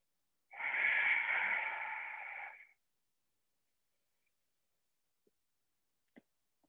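One long, deep breath of about two seconds during a guided movement and wellness exercise session, a steady airy rush heard close and alone, followed by near silence with a few faint clicks.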